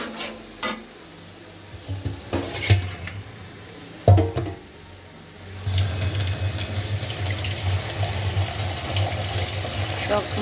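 Ginger paste and spices frying in oil in a pan while being stirred for a chicken curry, with a steady sizzle and scraping stirs, a few louder clatters early on, then a denser continuous frying noise.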